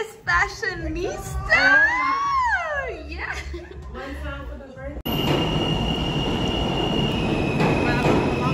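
A New York City subway train ride: after a few seconds of voices talking, a loud, steady rumbling roar of the moving train takes over, with a high metallic whine running through it.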